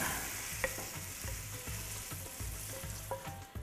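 Food frying in a pan for about a minute in a home kitchen, with a steady close sizzle and periodic stirring scrapes in a loose repeating rhythm.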